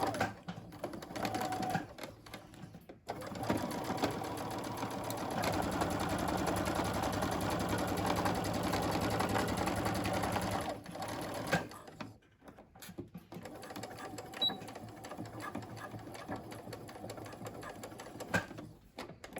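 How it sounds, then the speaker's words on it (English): A sewing machine stitches fabric across elastic for a face mask in bursts, with a long steady whirring run in the middle, short backstitch runs, and quiet handling pauses between them. "after you sew across the elastic, backstitch."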